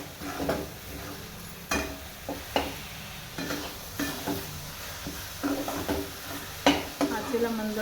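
Grated coconut is stirred and sautéed in melted jaggery for ukdiche modak, with a soft sizzle under irregular spoon scrapes and knocks against the pan, some quiet background sound between strokes.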